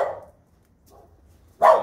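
A puppy barks indoors: one sharp, close yap, then a long quiet gap, a faint stir and a second louder bark.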